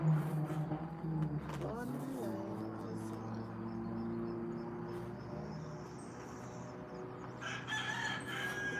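A rooster crows outdoors in Jamaica, a drawn-out call partway through with a second call near the end, set against steady background noise and people talking nearby.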